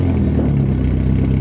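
Mitsubishi Evo X with a straight pipe exhaust running at a steady, loud low rumble close by, an even idle drone with no talking.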